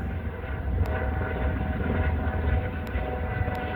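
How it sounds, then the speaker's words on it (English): A low, steady engine drone of a medical helicopter overhead, continuous and moderately distant, with no talking. "medical helicopter."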